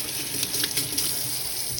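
Water runs from a tap in a steady, hissing stream that stays constant and fairly loud throughout, with no talking.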